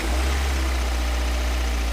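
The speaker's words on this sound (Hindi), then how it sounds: "हॉर्न के बाद फिर वही इंजन की थकी हुई आवाज।" A steady, low idling drone from the worn-out engine of an old, battered auto rickshaw on a foggy night, continuous and fairly close with no voices over it.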